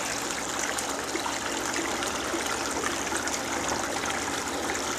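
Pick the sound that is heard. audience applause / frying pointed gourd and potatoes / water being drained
water being drained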